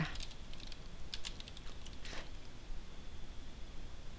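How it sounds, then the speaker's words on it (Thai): Typing on a computer keyboard in an admin-mode command prompt window: a short burst of quick, light key clicks up close, a few louder taps, then quiet room hiss with no talking. "คราวนี้เราเปิด cmd ขึ้นมานะครับ คอมมาไลน์มันขึ้นมา ไลน์แอดมินโหมดนะฮะ แล้วก็ลองพิมพ์ว่า"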